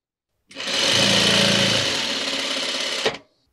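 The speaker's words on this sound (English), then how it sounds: "And let's just get sewing." A sewing machine sews fabric strips for a crazy quilt block in one continuous loud whirring run of about two and a half seconds, then stops with a click.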